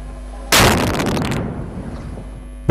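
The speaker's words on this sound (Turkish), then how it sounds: "Bombalar patladı." Bombs exploding in an attack in Sana'a, Yemen: a sudden loud blast erupts, followed by a rumbling, decaying roar of debris and echoes that fades over about two seconds.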